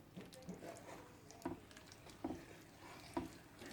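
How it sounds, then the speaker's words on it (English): Beans and corn, Nigerian style with palm oil, being stirred in a pot: soft, quiet wet scrapes and muffled knocks recurring about once a second at close range, with no talking. "I'm going to stir this in"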